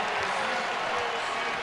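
Basketball arena crowd at a Tennessee vs Vanderbilt game erupting after a dunk, a loud continuous roar of cheering and applause filling the whole stretch.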